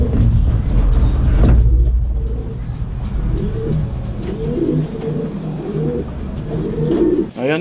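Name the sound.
racing pigeons cooing at the loft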